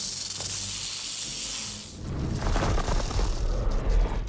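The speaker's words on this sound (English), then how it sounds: "recorded the sounds of snakes hissing," A live rattlesnake, recorded with an animal wrangler, gives off a loud sustained hiss, first bright and airy, then shifting into a rougher, fuller rushing hiss without pause.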